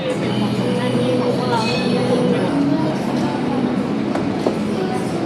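Busy underground metro station on Sukhumvit in Bangkok, with a continuous loud rumble of trains and crowd noise, indistinct voices murmuring throughout and a few faint metallic clicks.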